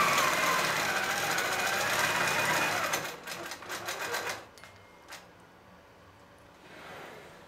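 A Grace Q'Nique 21 Pro longarm quilting machine stitches binding onto a quilt in a fast, steady mechanical whir for about three seconds, then a few short bursts of stitching before it stops, close and clear.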